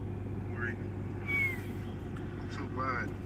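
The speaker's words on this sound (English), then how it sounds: "I found my lost cat." A cat meows several times in short, faint calls over a constant low idling car engine, with people talking nearby.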